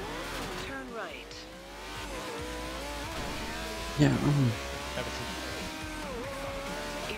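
Racing car engine in Forza Horizon 2 drones steadily with shifting pitch, a brief louder tire squeal bursting out midway, under a voice and game navigation prompts.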